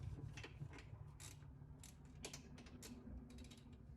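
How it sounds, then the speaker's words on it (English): A wrench tightens a bolt during a car wheel bearing install, making faint, close ratcheting clicks in short irregular runs with quiet gaps between them. "It's starting to feel tight enough to where I can use the wrench here"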